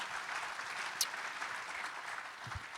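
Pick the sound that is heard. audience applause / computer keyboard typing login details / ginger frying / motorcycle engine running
audience applause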